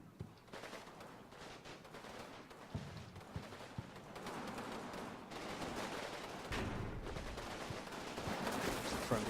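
Machine guns in the Combat Mission Normandy game chatter in bursts at a distance, with scattered single shots and thuds over a rumbling battle bed that grows louder toward the end.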